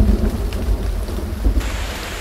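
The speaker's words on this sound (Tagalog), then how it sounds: "Grabe ang lakas ng ulan, no?" Heavy rain pours down steadily with low rumbling thunder during a downpour near a court, a dense, loud wash of sound with deep booming swells and no voices.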